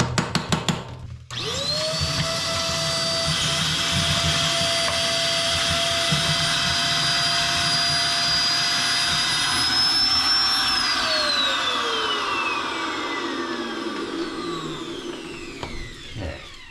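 A Vanpore ash vacuum starts up and runs steadily, sucking ash from a wood stove with a loud, close motor whine, then winds down with a falling pitch at the end; no one speaks.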